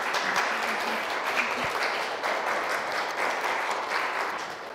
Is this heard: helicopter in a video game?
no